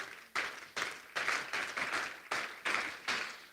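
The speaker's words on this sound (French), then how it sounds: "Est-ce que tu peux acclamer pour le roi des rois?" A church congregation claps together in strong, evenly spaced beats, roughly two to three claps per second, loud and near, with no voices audible over the applause.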